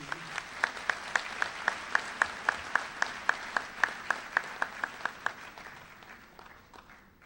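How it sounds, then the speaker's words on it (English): Applause at a graduation ceremony, heard as a steady run of crisp, evenly spaced claps over a soft crowd wash, tapering away in the final seconds. "A round of applause, ladies and gentlemen."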